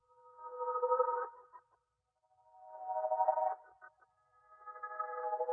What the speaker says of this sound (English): I thought of just reversing it and making chords out of it